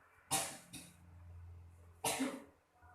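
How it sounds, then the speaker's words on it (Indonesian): Three harsh coughs close to the microphone, two in quick succession and then one more after a short pause. "Maaf, batuk."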